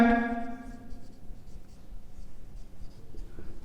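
Marker or chalk scratching on a board during a class 11 math lesson on complex numbers, a soft, uneven scraping of short strokes following a brief tonal sound at the start.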